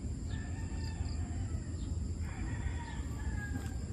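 Backyard chickens, including a breeding hen, clucking repeatedly while a rooster crows nearby, over a steady low hum of farm ambience.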